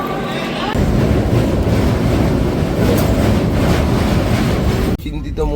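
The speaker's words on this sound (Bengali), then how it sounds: "আমরা এখন ট্রেনে উঠছি।" Steady, loud roar of a passenger express train on the rails, the Jammu Tawi to Sealdah weekly Humsafar Superfast Express, a dense rumble that breaks off sharply near the end.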